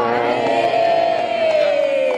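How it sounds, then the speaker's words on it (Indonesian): A crowd cheers and whoops for the mothers at a community gathering, a loud sustained roar of voices with a rising shout running through it, no clear clapping. "Ya, tepuk tangan buat ibu-ibu."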